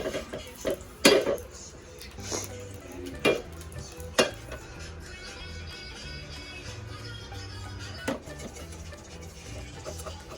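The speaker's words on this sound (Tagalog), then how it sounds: "Ngayon naman ipiprito na natin." Food frying in a pan, with faint sizzling under clattering utensils, stirring, and occasional sharp clinks of metal against the pan.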